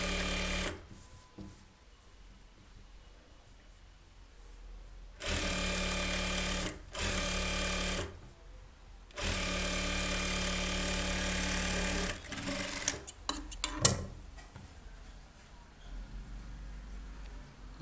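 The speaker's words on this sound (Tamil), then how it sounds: "லைனிங்கில் ஓரத்தில் தைக்கும்." A sewing machine stitching along the edge of a blouse lining runs in several bursts of steady, close whirring separated by quiet pauses, with a few sharp clicks and handling knocks near the end.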